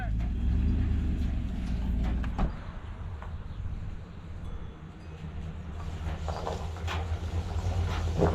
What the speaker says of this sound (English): I'm gonna park my truck.